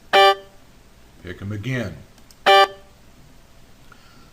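Three single guitar notes of a power chord shape, picked one at a time: a bright first tone, a spoken word in between, then a second clear tone, each ringing briefly and close.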